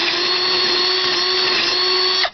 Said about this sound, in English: you got to run a drill bit in there.